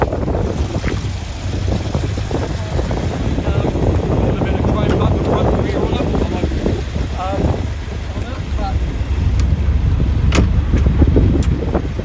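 A 1968 Corvette roadster with a 454 engine on its first drive, a loud steady engine rumble and road roar heavily mixed with wind buffeting the microphone from the open top, with a voice talking over it.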